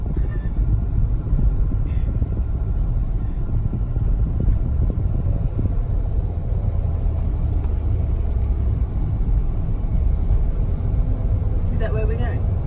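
Steady low road rumble and wind noise inside a moving car on a mountain road in Hokkaido, continuous and fairly loud, with people talking over it.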